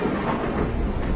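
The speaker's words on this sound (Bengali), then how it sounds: "এই যা, এরে বৃষ্টি শুরু হয়ে গেল" A thunderstorm brings steady rain mixed with a low, rumbling roll of thunder, a short, continuous wash of sound with no voices.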